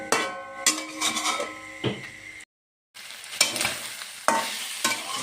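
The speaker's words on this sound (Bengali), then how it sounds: "মাংসটা কষিয়ে নিচ্ছি" Chicken pieces sauté in a pan with little oil, a spoon scraping and stirring in repeated strokes over a steady sizzle, close and fairly loud, with a short silent break.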